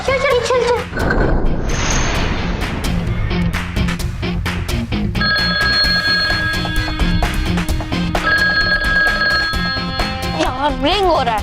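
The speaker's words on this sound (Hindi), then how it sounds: "प्रोफेसर सर फोन क्यों नहीं उठा रहे? अब तक रिंग जा रहा है।" A telephone bell rings loudly and repeatedly through the whole stretch, mixed with busy music and effects in a children's superhero series scene, with a bright tone and a warbling ringing pattern standing out near the end.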